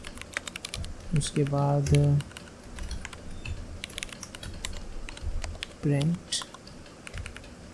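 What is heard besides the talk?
typing on a computer keyboard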